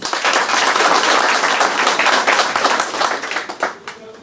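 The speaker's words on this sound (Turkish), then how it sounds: "En güçlü alkışları sizler hak ediyorsunuz." Loud, dense applause from an audience gathered to support a local council candidate, many hands clapping at once and then tapering off toward the end.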